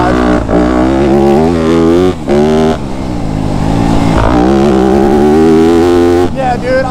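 A Yamaha YZ250F dirt bike engine revs hard through the gears on a track, a loud, close, buzzing four-stroke whine that climbs in pitch, drops briefly at each shift and climbs again.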